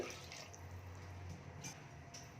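Water is poured steadily into a pot of chicken 65 biryani, a soft, faint liquid trickle and splashing under a low room hum, close but quiet.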